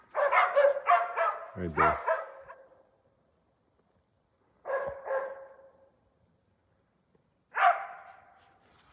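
Laika hunting dogs bark at a bear treed in a tall tree: close, loud bursts of barking in three bouts, with someone speaking between them.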